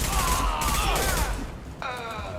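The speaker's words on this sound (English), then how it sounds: "The Blue Suns and Vorcha shooting anything that moves." Dense video-game gunfire from Mass Effect 2 as Blue Suns and Vorcha shoot, a loud sustained fusillade with mechanical clatter, shifting tone near the end.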